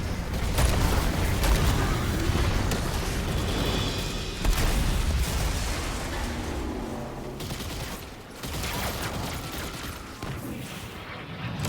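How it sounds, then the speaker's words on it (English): Dense, rumbling video game explosions in Destiny 2 and bursts of gunfire-like crackle pile up continuously, with heavy low-end thuds and a brief lull near the end. "I heard those explosions from here."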